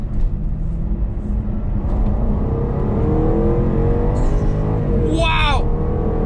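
A 5-litre supercharged V8 in a Jaguar XKR, its engine note climbing steadily under throttle as the car accelerates, loud and close inside the cabin, with someone talking over the drone.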